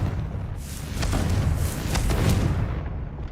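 A Confringo fire spell goes off in Hogwarts Legacy, a deep rumbling blast with a rolling boom that swells and holds for a few seconds before easing off.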